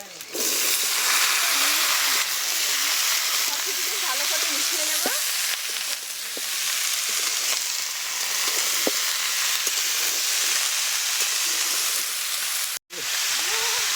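Kohlrabi and vegetable stalks fry in hot spiced oil with a loud, continuous, close-up sizzle that drops out abruptly for a moment near the end.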